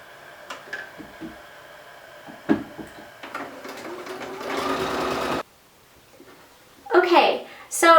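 Sewing machine stitching a ruffle diaper cover, a burst of fast, steady mechanical whirring lasting a few seconds between quieter handling clicks and brief speech near the end.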